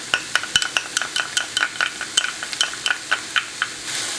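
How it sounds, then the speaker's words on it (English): Sloppy joe mixture with yellow mustard and chili powder stirred in a pan: close, rhythmic scraping strokes of a spoon against the pan, about a dozen quick evenly spaced scrapes over a soft sizzle, no talking. "Just stir that evenly."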